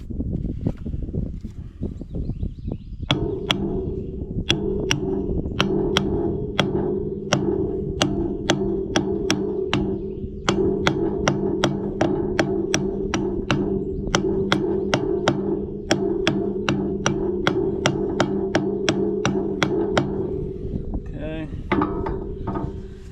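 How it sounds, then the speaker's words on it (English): Hammer lightly tapping on a part of a Morra F25-6 disc mower, a long series of sharp metallic taps in a steady rhythm with short pauses, close and clear over a low background hum. "Now, I'll lightly tap"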